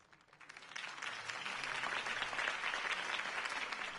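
Crowd applause at a Harvey Dent campaign rally in a PS4 video game, swelling from quiet into a sustained, fairly distant roar of clapping.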